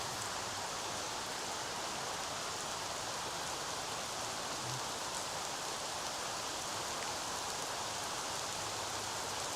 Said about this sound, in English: It might be a bit too much rain for the camera to handle.